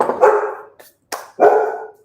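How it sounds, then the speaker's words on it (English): A dog barks in two bursts, a loud bark, a brief yip and then another full bark, fairly close in a home kitchen during baking, with no talking over it. "Dogs are barking."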